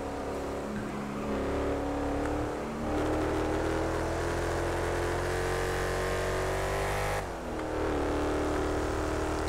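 A car engine revs hard and holds at high speed in a workshop, a loud sustained roar with a slight dip and swell near the end, no talking.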